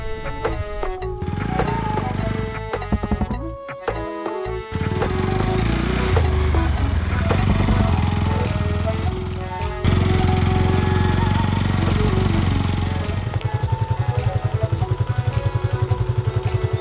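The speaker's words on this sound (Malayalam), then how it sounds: "ബൈക്ക് വന്നത് ഞാൻ കണ്ടില്ല" A motorcycle engine runs steadily and loudly throughout, with a broad rumbling drone, a brief drop and change partway through, and a rapid pulsing idle near the end, amid musical tones.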